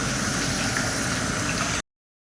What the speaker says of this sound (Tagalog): Ayan, kumukulo na.